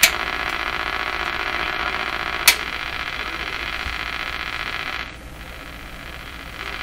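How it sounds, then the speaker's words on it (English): A steady broadband hiss and roar from a Hallicrafters S-38D communications receiver, loud and unbroken, with a brief click partway and a slight drop in level near the end. "There's a roar or a hiss."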